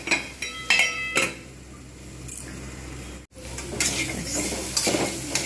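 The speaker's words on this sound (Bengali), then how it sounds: "মাছটা একটু ভাজা হবে এর সঙ্গে" Potatoes and fish frying together in a pan, a steady close sizzle with bursts of stirring and utensil scraping against the metal, one brief dropout midway, no talk.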